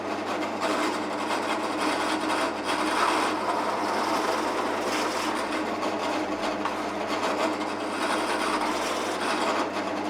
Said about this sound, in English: Now I'm drilling 10mm holes to a depth of 5mm on the neck end